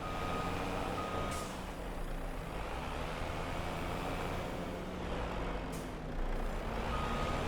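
A truck reversing in Farming Simulator 25, a steady engine drone under a continuous reversing beeper, with two short hisses of air brakes releasing.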